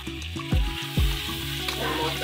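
Chili powder and coriander-cumin powder frying in hot oil with cumin, a loud close sizzle with a couple of sharp hissing bursts as the spices hit the oil.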